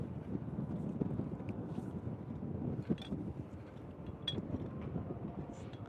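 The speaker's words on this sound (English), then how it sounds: "A little bit of a strong breeze right here." Strong gusts of wind buffet the microphone outdoors near a roller coaster at a theme park, producing a constant low rumble with uneven surges and a few sharp bumps.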